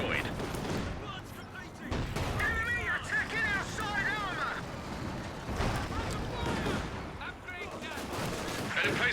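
Tank and gun fire from a Company of Heroes match, with a Panther tank firing amid dense battlefield noise: repeated loud gunshot bursts and heavy blasts, under a caster's steady talk and mixed with game sound.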